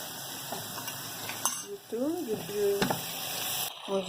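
Chopped garlic, ginger and parsley sizzling in a hot pan, a close crackling fry with stirring scrapes and a brief clatter near the end, while a voice talks over it.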